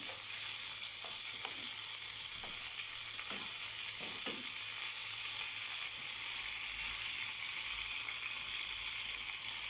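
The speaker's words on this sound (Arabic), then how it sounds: "غادي نستمر في التحريك" A spoon scrapes and stirs through meat, fat and vegetables frying in a pot, with a steady loud sizzle and a few intermittent stirring knocks.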